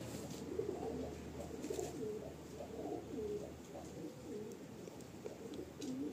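Madrasi pigeons coo softly in a loft, with repeated low throaty coos overlapping in a continuous murmur; the sound is faint and close, with no clear speech.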